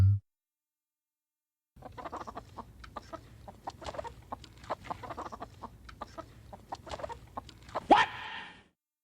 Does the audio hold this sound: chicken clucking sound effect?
yes